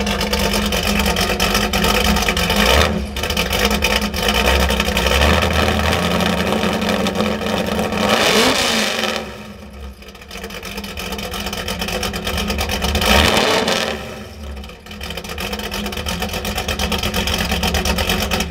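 Loud truck engine with a cam and open headers, a steady heavy rumble that swells into two strong revs, close and alone with no talk.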